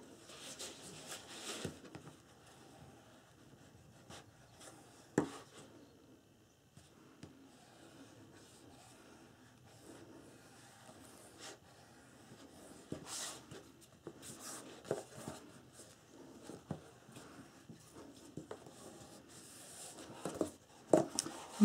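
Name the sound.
bone folder rubbing paper to make a fold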